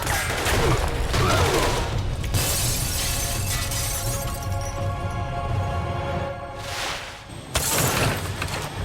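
Tranquilizer darts fired in Marvel Ultimate Alliance 2 burst out as a rapid, dense volley of sharp cracks under a loud game soundscape, with short bright impacts near the end.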